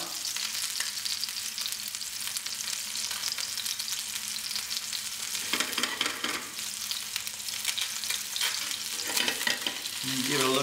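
A salmon fillet fries in a hot pan, giving a loud, steady sizzle and crackle throughout. Brief scraping shifts are heard as the fish is moved around in the pan.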